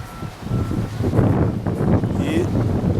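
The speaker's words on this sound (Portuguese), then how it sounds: "E tem vento também, né?" Wind gusts buffet the microphone in a home garden on a cloudy, mild day, giving a steady low rumble and rustle that swells and fades. Speech is faintly present under it.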